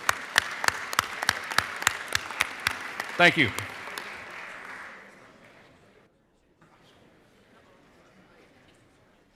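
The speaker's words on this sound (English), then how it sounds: "So if y'all will join me in giving these guys a good big hand of applause," Members in a legislative chamber applaud during a session day: sharp, evenly spaced loud claps over a bed of general clapping that fades out after about five seconds, followed by a quiet room and a brief spoken thanks.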